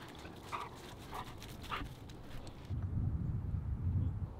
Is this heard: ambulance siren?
no